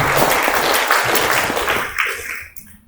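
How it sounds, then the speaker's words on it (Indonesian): A church audience at a political education training bursts into dense, loud applause that carries for a few seconds and then quickly dies away. "Kita berikan aplaus sekali lagi."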